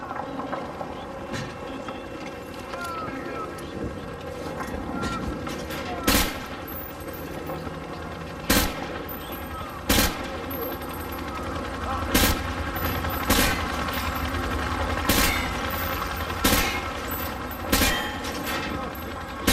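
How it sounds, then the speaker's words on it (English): Call of Duty: Modern Warfare 2 campaign training sequence with repeated sharp gunshots, single and in short bursts, cracking out every second or two over a busy game ambience, while a voice gives instructions. "You're firing from the hip"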